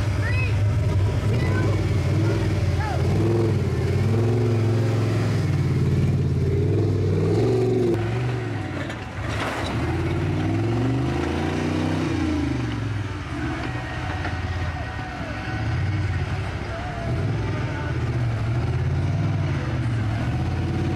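A home-built four-wheel-steer truck with a 4.8 motor and Super Duty axles front and rear revs hard and accelerates at a truck event. The loud engine drone rises in pitch, dips briefly midway, then builds again.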